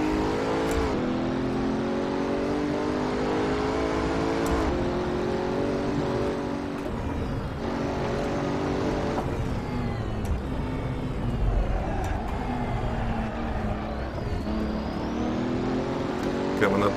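A twin-turbo Pagani Huayra in Assetto Corsa climbs through the Nordschleife. Its engine drone rises in pitch under acceleration and drops back at each shift, steady and prominent throughout, with occasional talk over it.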